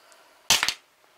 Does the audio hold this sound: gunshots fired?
yes